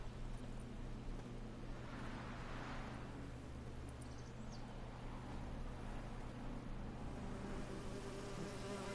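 Bees buzz in The Witcher 3 video game, a dense, steady insect drone that fills the whole stretch without pause, loud and close, with no voices over it.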